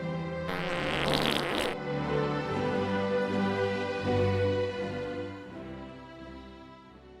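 A comedic fart sound effect in a radio advert, a long, loud, buzzing and sputtering blast that stretches over several seconds and trails off slowly, with no voices over it.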